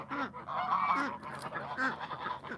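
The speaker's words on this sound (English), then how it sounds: "so we're just gonna have to deal with a little bit of goose noises" Geese honk repeatedly at a backyard poultry flock kept with chickens, in several close, fairly loud calls spaced across the stretch, with no talking.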